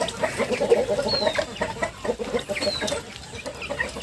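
Several month-and-a-half-old Thai native chickens cluck and chatter continuously nearby, with a few higher squawks breaking through.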